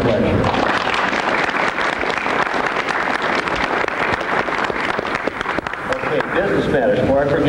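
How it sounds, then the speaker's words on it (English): Sustained applause from a lecture audience of students at a history session, dense clapping filling the room steadily from start to finish without a break. "I think they deserve a round of applause."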